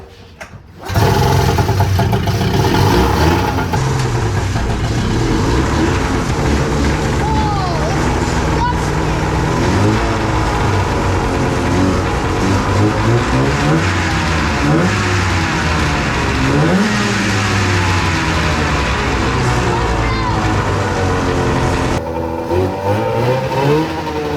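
An Arctic Cat snowmobile engine sputters to life and then runs loudly and steadily for about twenty seconds, revving up and down with a rough, droning tone, with occasional voices.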